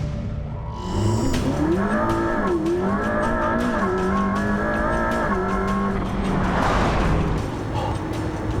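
A McLaren sports car accelerating hard, its engine loud and close, the pitch climbing steadily through a short shift dip before easing off near the end.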